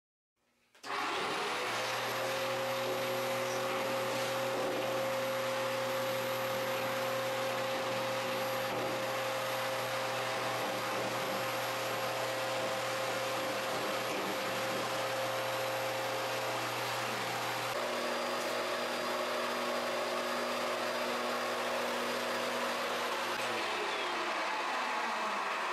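A vacuum cleaner switches on and drones steadily for about twenty seconds while cleaning out the inside of a noisy Admiral/Whirlpool-type clothes dryer, with a slight pitch shift partway through before shutting off.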